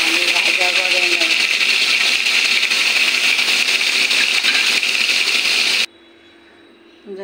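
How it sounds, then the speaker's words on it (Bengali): Fish and green banana frying in red mustard oil, a loud steady broadband sizzle that runs continuously, with a voice talking over it, then cuts off abruptly near the end. "মাছ আর কাঁচা কলাটা আমি ভাজা করে নেব।"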